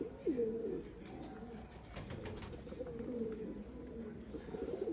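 Pigeons kept in a netted enclosure with their chicks coo in low, throaty, repeated calls, fairly close, over a steady background rustle and a few higher chirps.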